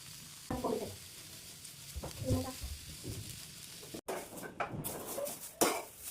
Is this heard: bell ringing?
no